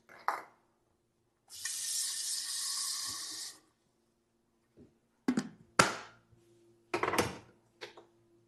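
Hot water runs from a kitchen tap for about two seconds as a steady broadband hiss, followed by several short clanks and knocks of dishes or a pan in the sink.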